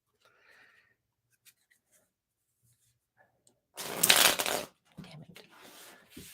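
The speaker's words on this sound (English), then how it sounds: "we're just gonna shuffle really fast" A deck of tarot cards is shuffled quickly and up close, making a dense burst of riffling and flapping that lasts about a second. Softer card handling and rustling follow, with a brief muttered voice nearby.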